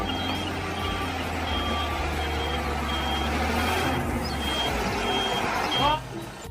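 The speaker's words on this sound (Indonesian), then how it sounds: "wah yang ini truk molen untuk mengaduk semen" A cement mixer truck rumbles steadily nearby while its reversing alarm beeps at regular intervals, with an air hiss near the end and a voice talking over it.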